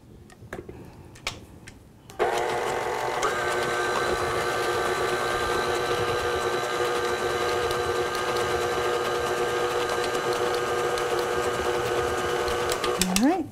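An electric mixer whirs into cake batter for a vanilla and chocolate trifle. It starts suddenly after a few quiet knocks and holds a loud, steady motor hum with a faint rhythmic ticking until it stops near the end.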